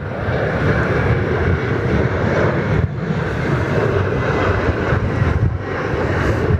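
Airliner arriving at Perth Airport, a continuous loud roar of jet engines holding steady throughout, with no talk over it.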